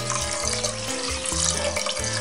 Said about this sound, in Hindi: चावल डूबने तक हम इसमें डालेंगे पानी